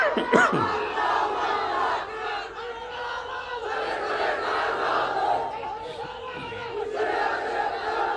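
A large religious gathering at a Bengali waz sermon by Mufti Amir Hamza answers a takbir call with a loud, unified shout of Allahu Akbar, sustained across the crowd and swelling in repeated waves.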